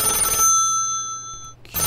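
A telephone bell rings once in a short, clear electronic tone that sustains and fades, heard alone and close.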